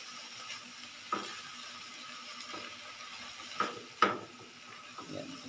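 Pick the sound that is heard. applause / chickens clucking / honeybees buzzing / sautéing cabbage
sautéing cabbage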